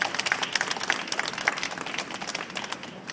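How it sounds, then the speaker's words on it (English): Audience round of applause at a political endorsement event, steady dense clapping from a crowd at moderate level, with sharp individual claps standing out and no talk over it. "Let's give Naral a round of applause."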